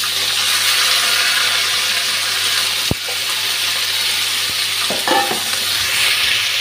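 Bay leaf, onion, green chili and tomato fry in hot oil in a steady, loud, close hiss, and a few sharp clinks and stirring scrapes break through near the middle and end.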